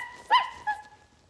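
A puppy gives two short, high yips about a third of a second apart, close to the microphone, each with a clear tonal ring, then the room goes quiet.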